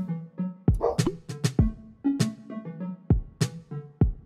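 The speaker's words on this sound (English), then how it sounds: "I think I found a dog." A cartoon dog in the video game 100 Dogs gives a string of close, clear barks and yips in uneven bursts, with short whimpering tones between them and no talking.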